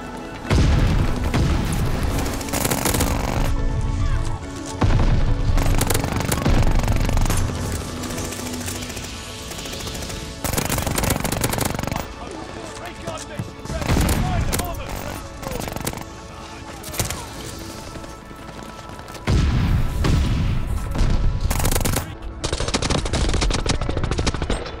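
Machine pistol fire in a video game, loud rapid bursts in long sustained strings broken by short pauses, with booms and other gunfire mixed in and no clear talk.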